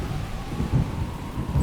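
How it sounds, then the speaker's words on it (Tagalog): Heavy rain and thunder as a storm effect, a deep continuous rumble rolling under a dense wash of rainfall, loud and steady throughout with no voices. "Kusog nga ulan o pagbaha."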